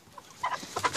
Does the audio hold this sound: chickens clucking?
yes